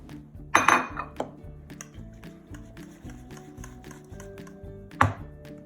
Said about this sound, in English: place that into the big dish and maybe give it another little stir to mix it up